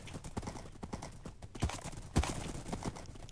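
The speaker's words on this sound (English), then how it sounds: "my horse literally went all Hancock on that" Horse hooves clatter in a quick, uneven gallop in Minecraft, a steady run of soft clip-clop beats with a couple of heavier thuds near the middle, fairly quiet and with no voices.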